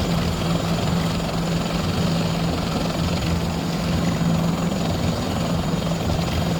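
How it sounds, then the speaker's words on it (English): A Bell 412 helicopter in a flight simulator gives a steady, close drone of engine and rotor that holds even throughout. "You'll hear the engine RPM start to come down,"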